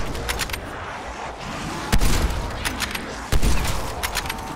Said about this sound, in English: Sniper rifles ain't for amateurs.